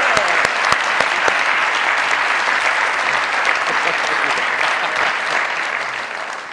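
A studio audience on a televised comedy talk show applauds to welcome a guest, with loud, dense, sustained clapping that holds steady and fades slightly at the end.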